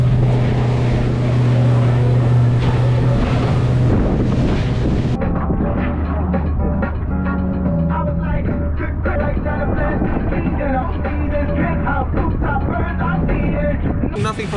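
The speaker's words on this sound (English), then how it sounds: "We got high speed boat chase over here" High-speed motorboats roar past at sea during a yellowfin tuna fishing trip. A strong, continuous engine drone runs throughout, mixed with wind buffeting on the microphone and rushing water.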